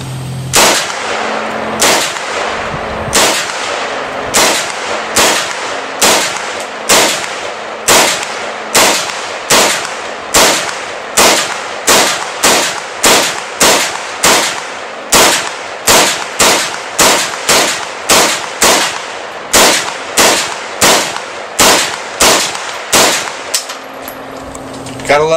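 A Romac AK-47 rifle fires about thirty sharp, loud, close shots in a steady, evenly spaced semi-automatic rhythm, one roughly every three quarters of a second, the reports ringing outdoors with brief echoing tails.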